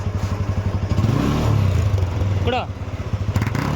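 An Apache RTR 160 motorcycle engine thumps at idle nearby, surges in a brief rev, then drops back to its rhythmic idle, while someone speaks briefly over it.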